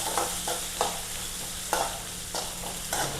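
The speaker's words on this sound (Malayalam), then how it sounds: "അപ്പോൾ നമുക്ക് ചെയ്യാം, വറുക്കാൻ നോക്കാം" Spices and coconut roast in a pan while a spatula scrapes and stirs in repeated short strokes over a soft, continuous frying hiss, close up and with no talk.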